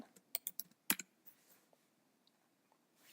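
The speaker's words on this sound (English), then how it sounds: "Behind the domain name in your URL bar, type in wp-admin." Several quick keystrokes on a computer keyboard while entering a web address in a browser, a short burst of clicks followed by one sharper tap, then near silence with faint stray clicks.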